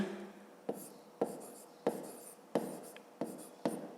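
Pen writing in a notebook during a fifth-grade maths exercise, heard as six sharp strokes in a steady rhythm, each followed by a scratchy trail, close and alone with no talk.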